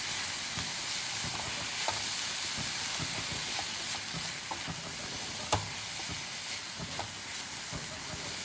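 Spinach greens stir-fried in a pan for a Tamil keerai poriyal, giving a steady close sizzle with light stirring scrapes and small clicks throughout and no talk.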